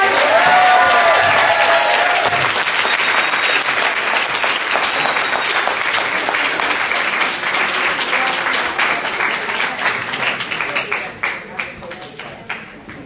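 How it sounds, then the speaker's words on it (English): A large audience at a women's summit in Northern Virginia gives a big round of applause to a departing congresswoman, a dense roar of clapping with crowd noise and voices mixed in, thinning out to scattered claps near the end. "So we're going to give her a big round of applause."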